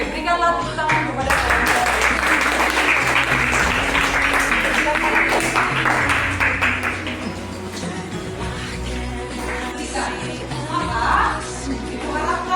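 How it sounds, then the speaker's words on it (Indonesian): A class applauds for a group presentation in a classroom, a dense burst of clapping from many hands that holds steadily for several seconds and then thins out and fades toward the end. "berikanlah tepuk tangan kepada"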